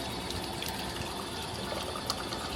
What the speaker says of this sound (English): I'm just going to grab a quick glass of water and see how these work.